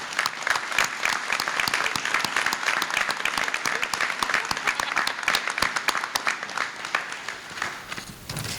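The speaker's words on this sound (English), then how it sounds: "we can all give him a round of applause" Audience applause at a fire recruit class graduation ceremony, honoring Captain Coleman: dense, steady clapping from a large indoor crowd lasting several seconds before thinning slightly at the end.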